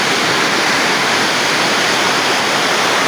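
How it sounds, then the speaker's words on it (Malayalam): Spring water gushes down the Adimali waterfall in a loud, continuous roar that fills the space evenly, close by, with no voices. "ഇതാണ് ഗൈസ് നീരുറവ കുത്തി ഒഴുകുന്ന സ്ഥലം."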